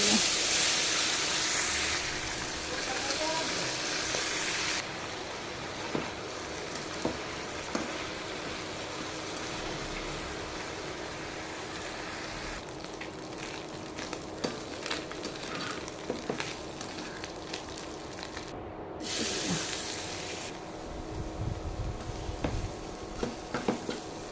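Small chanda fish frying in a pan give a continuous close hiss and sizzle with scattered crackles that persists for the whole stretch, shifting slightly in intensity.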